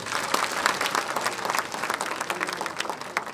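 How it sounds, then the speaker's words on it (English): An audience at a lecture breaks into a big round of applause, dense clapping that fills the room steadily and loudly for the whole stretch, with no voices standing out above it. "May I request you to give me a big round of applause?"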